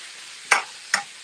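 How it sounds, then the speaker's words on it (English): Food frying in a pan while taco soup is being made in a home kitchen: two short, bright sizzling bursts about half a second apart, each fading quickly, with no talking. "now you can hear my frying going on."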